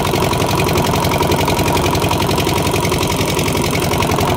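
A trawler's engine chugs at sea on the run from Saint Martin's to Chhera Dwip, a loud, steady, close mechanical drone with a rapid knocking pulse and no pauses.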